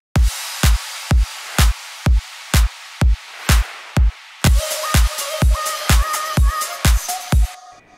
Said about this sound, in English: And all the drums together sounds like this.